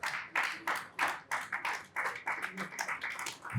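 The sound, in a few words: audience applause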